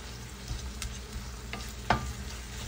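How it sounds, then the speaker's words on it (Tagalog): Smoked meat is stirred in a pan with melting guava jelly, a faint steady sizzle with a few soft scraping knocks of the utensil, no talking. "Haluin natin para mag-coat yung ating meat. At para mag-melt yung jelly."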